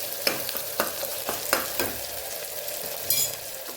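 Tomato and garlic chutney fries in a pan with a steady soft sizzle, broken by several sharp spoon-scraping stirs at irregular intervals, close and fairly loud, with no voices.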